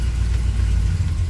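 Cold carbureted LS V8 running rough at idle, a loud low rumbling drone with an uneven, choppy pulse, close up and steady with no talking.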